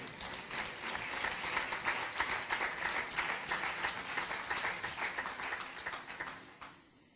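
A church congregation applauds at an Easter service, steady dense clapping filling the room for about six seconds before tapering off.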